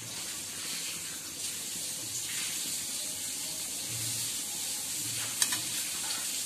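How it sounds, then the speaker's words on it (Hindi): Small slices of bread deep frying in hot oil give off a steady, close sizzling hiss, with one sharp pop near the end. "ब्रेड के स्लाइसेस को हमें डीप फ्राई कर लेना है।"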